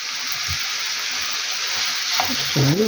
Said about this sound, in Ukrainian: вони тут і гарненько обсмажуються